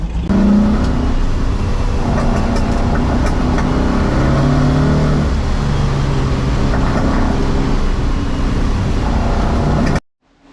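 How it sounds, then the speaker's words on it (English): An air-cooled Volkswagen drives on a test run, its engine droning and rising through gears with a steady road rumble from inside the car, loud and continuous before cutting off abruptly. "Right, I'm just going to take it for a test drive."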